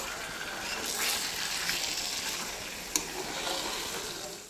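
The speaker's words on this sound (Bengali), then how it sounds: "এখন এবার যতটা পারবো কষাবো।" Meat sautéing in a pan for kosha, a steady broad sizzle with scraping stirs and one sharp clink partway through, close and fairly quiet, with no speech.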